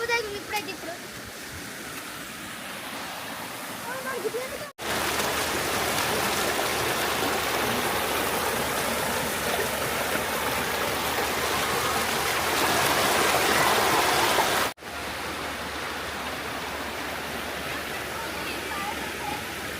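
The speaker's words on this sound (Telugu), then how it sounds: "మంచి వాటర్ ఫ్లో ఫ్రెండ్స్ ఈ లొకేషన్ చూడండి ఇగో మొత్తం వరద అయితే వారుతున్నాయి నీళ్ళు" Loud, steady rush of floodwater pouring over a small waterfall at Vennemuddala Gandi, broadband and continuous throughout, close by and alone.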